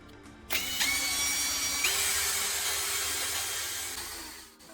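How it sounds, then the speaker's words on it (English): A power drill whines steadily at high speed, spinning a graphite rod against sandpaper with a continuous rough hiss, its pitch shifting slightly partway through. "place it into a drill and use sandpaper to sharpen one end"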